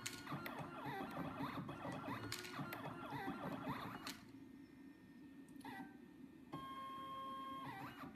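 A small automatic breadboard jumper wire making machine runs nearby, with whirring motor movements, mechanical clicks and steady electronic tones in repeating cycles, fairly quiet and alone.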